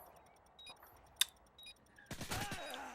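A UMP submachine gun fires in a Search and Destroy video game match, with a few faint isolated shots and a sharp crack followed by a short burst of rapid gunfire, all fairly quiet.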